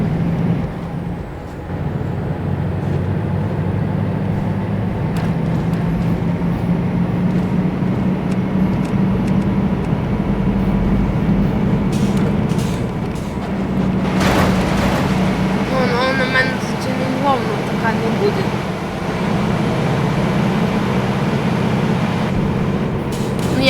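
A long-haul truck tractor driving at top speed, about 140 km/h without a trailer, in Euro Truck Simulator 2, a loud steady low engine drone throughout with a brief hiss around the middle and someone talking over it.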